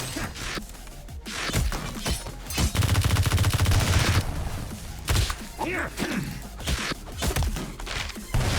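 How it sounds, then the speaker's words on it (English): Dense gunfire from the Madness: Project Nexus video game, rapid shots and a sustained automatic burst with smashing impacts, loud and close, with no talking. "Just keep shooting guns."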